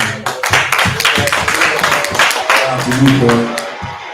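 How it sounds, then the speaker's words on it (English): Loud, dense clapping from a church men's fellowship gathering, sustained throughout with a few sharper claps standing out and voices mixed in underneath. "I got to give y'all a hand clap"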